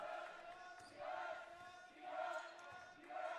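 A student section cheers at a men's college basketball tournament game between Central Christian and Manhattan Christian, a crowd roar that swells and ebbs in waves, heard at moderate distance in a gym.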